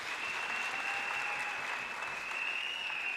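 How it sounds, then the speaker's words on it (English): A graduation ceremony audience at the University of Limpopo applauds a sign language interpreter. The clapping is a steady, even wash at a moderate distance, with a faint sustained tone above it and no speech. "Can we give them a big round of applause?"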